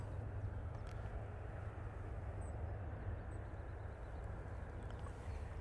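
An Aer Lingus Airbus A350 departs Manchester Airport in low visibility, a steady, broad jet engine roar that holds level throughout with a heavy low rumble and no voices.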